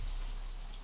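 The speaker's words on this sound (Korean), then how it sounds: "빗소리 들리시죠?" Steady rain falling all day, a dense continuous hiss with a low rumble underneath, even and unbroken throughout.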